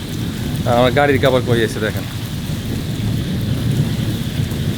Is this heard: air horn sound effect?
no